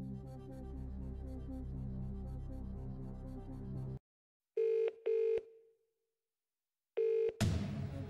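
Telephone dialing in the Who Wants to Be a Millionaire video game, 2nd Edition DVD celebrity special: a music bed plays, then stops, followed by short, clear electronic dial tones in two quick beeps, a pause, and one more beep.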